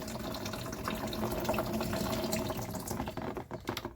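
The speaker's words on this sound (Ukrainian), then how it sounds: "Відійшло, бачите, водичка вже тече." Water from a water heater tank drains steadily into a bucket, a continuous close splashing and trickling flow that holds for nearly four seconds before easing slightly at the end.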